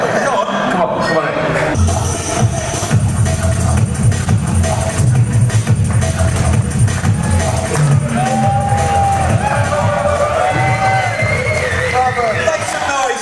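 An indoor music-venue crowd cheers and whoops loudly and continuously, with shouts and babble building into a sustained roar of noise.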